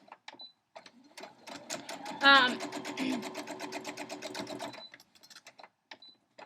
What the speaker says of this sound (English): sew 1/4 inch seam allowance right down the edge